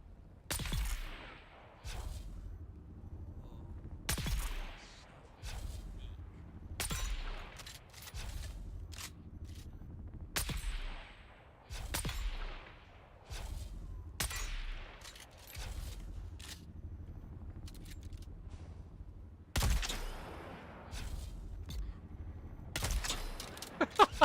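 Sniper rifle shots ring out in Dune: Awakening, about a dozen sharp cracks spaced a second or two apart, each trailing off in a short echoing tail, with quiet gaps between.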